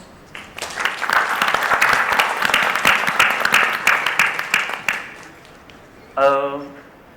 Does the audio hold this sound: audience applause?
yes